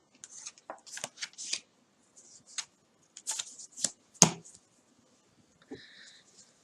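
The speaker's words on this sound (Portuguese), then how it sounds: "Vamos puxar as 3 cartas de cima." Tarot cards drawn one after another from the top of a deck, crisp quick slides and flicks in short bursts with pauses between, close and clear, no talking.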